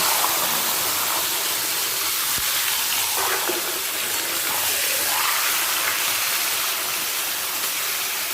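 Taro greens dropped into hot tempered oil in a pan, giving a loud, steady, broad hiss of sizzling that carries on without a break and with no voices over it.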